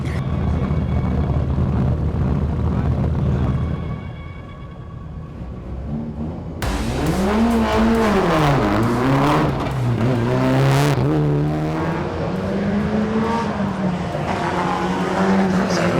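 A WRC rally car roars past, its engine note climbing and falling through hard revs and gear changes, loud and close after a quieter lead-in with distant engine drone.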